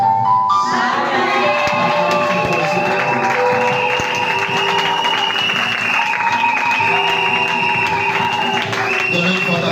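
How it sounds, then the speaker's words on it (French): A church congregation breaks into sustained loud applause and cheering in praise of Jesus, a dense continuous wash of clapping and shouting voices with a musical tone ringing underneath. "Donnez une forte acclamation pour le Seigneur Jésus."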